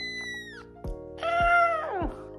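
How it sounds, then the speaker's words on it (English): A cat lets out a couple of drawn-out, rising and falling meows up close, with small clicks and rustles between calls. "Micah, with the mustache, is a meower."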